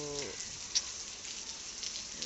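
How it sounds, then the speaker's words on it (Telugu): Heavy rain falls continuously in a steady, faint hiss with no break, briefly joined by a short tone at the start. "అసలు ఆగట్లేదు ఫ్రెండ్స్, పడుతూనే ఉంది వాన"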